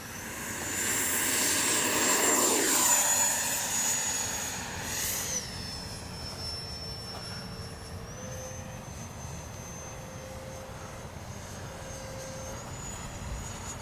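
A Freewing F-22 RC jet takes off, its electric ducted fan rising to a loud rushing whine that peaks and then recedes as the model climbs away, settling into a steady distant tone with no talk.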